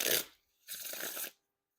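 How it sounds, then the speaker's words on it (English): Two quick riffle shuffles of a new deck of playing cards, each a short crisp burst of fluttering card edges, close by with silence between. "The bridge shuffles are definitely like a little bit clumpy."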